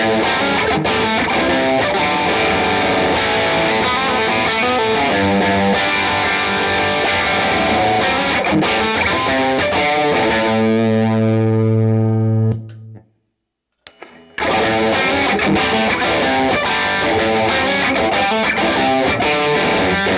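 Heavily distorted electric guitar through a Marshall Bluesbreaker vintage reissue amp with every control maxed, roaring loud and dense with strummed chords, briefly ringing out into a sustained note before cutting to near silence, then crashing back in.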